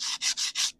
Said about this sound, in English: the next stage is to use a bit of sandpaper. So I have some here on a sanding block just for support